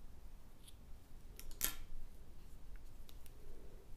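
Scissors snip through yarn while finishing a crocheted kids' beanie, a single crisp cut heard up close in a quiet room.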